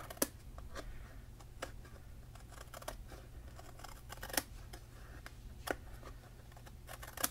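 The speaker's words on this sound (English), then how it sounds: "So I'm going to snip that, just trim it right off." Scissors snip a paper overhang off a craft box: a string of crisp, isolated clicks spaced irregularly, close and quiet over a low steady hum.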